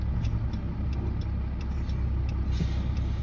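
Car backing up on a farm road during corn harvest, steady low engine rumble close by with a faint regular ticking running over it, no talking.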